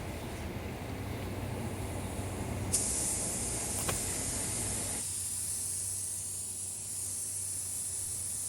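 A spray gun lays a paint coat over sealer, giving a steady close hiss that shifts tone as the trigger and distance change, with a brief click partway through and no talking.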